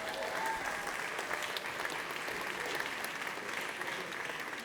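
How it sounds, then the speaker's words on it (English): A room full of attendees at a commerce summit applauds, with steady, moderately quiet clapping that continues evenly without speech. "Let's applaud these people."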